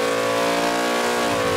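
A Small Block Chevy 406 V8 on a dyno, timing set to 32 degrees, revs hard through a steady sweep, its dense harmonic roar loud and continuous throughout with no talk over it.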